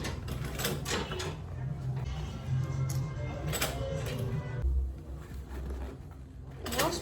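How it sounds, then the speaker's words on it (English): A sewing machine back stitching seams on an Ankara fabric bowler bag, a steady mechanical whirring close by with brief pauses and restarts as the stitch direction reverses. "Basically sewing on that stitch I made, so I turned, so I back stitch."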